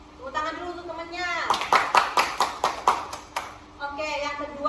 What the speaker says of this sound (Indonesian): Tepuk tangan dulu untuk temennya